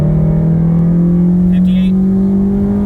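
A Honda Civic Si (FA5) with a Flashpro tune under full throttle from inside the cabin: a loud, steady engine drone climbing gradually in pitch as the car accelerates.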